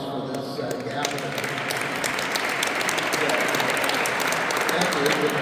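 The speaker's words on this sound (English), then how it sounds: "give them a round of applause for this gathering" Steady applause from a crowd at a White Cane Day gathering in Arkansas, dense clapping that fills the whole stretch at an even, fairly loud level.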